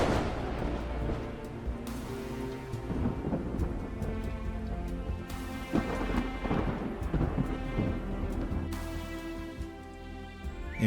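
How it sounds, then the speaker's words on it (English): Thunderstorm over parched prairie grassland, with steady torrential rain and repeated loud, rolling thunder crashes, several of them long rumbles that build and fade over the downpour. "The prairie sky was torn with lightning, then torrential rain fell on the parched grassland."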